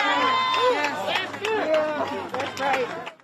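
A street crowd erupts in cheers and shouts reacting to the Derek Chauvin guilty verdicts in Minneapolis, a dense wash of overlapping voices rising and falling close by.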